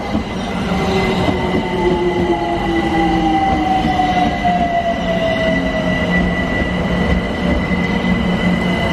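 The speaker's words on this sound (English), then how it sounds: "Overground going to Clapham Junction" A London Overground train bound for Clapham Junction runs past close by with a loud, steady rumble, a high tonal whine that slowly falls in pitch, and faint wheel squeal throughout.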